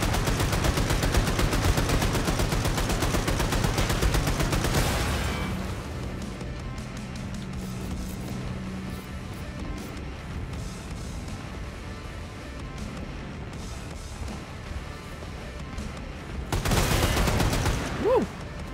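Gunfire in the shooter Wolfenstein II: The New Colossus, a dense loud burst of rapid shots for the first few seconds, then a quieter stretch of rumbling game noise before another loud burst near the end.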